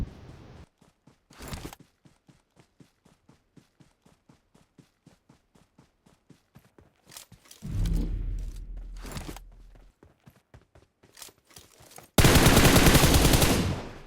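Gunfire in a battle royale video game: a rapid string of sharp single shots in quick rhythm, then heavier bursts and a loud sustained blast at the end, all fairly close, with no talking.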